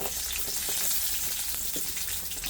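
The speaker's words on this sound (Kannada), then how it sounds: "ಎಣ್ಣೆ ಒಂದು ಸ್ವಲ್ಪ ಕಾದಾದ್ಮ್ಯಾಗ ಉಳ್ಳಾಗಡ್ಡಿ ಹಾಕಂಬ್ರಿ ನಾವು" Onions frying in hot oil in a small kadai give a steady, close, dense hiss with a few faint crackles and no break throughout.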